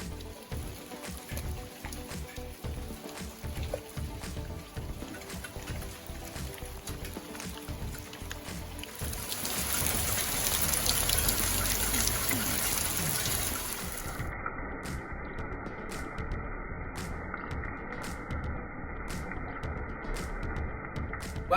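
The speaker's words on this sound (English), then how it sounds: "It's starting to pour down again." Steady heavy rain pours down outdoors beside a roofed live-edge wooden gazebo, a continuous soft wash that swells midway, with no talking.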